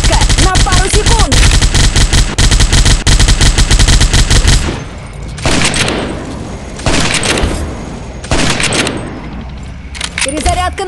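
Gunfire in the World War Heroes video game with a Mauser 98k sniper rifle: dense rapid bursts of automatic fire and loud shots dominate the first half, then spaced single reports and clatter follow over lighter background noise.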